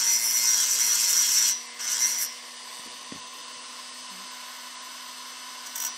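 A small tool chamfers the port edge of a two-stroke chainsaw cylinder being ported, giving a loud, steady high-pitched grinding whir for about a second and a half, a brief second burst, then a low steady hum with a faint tap.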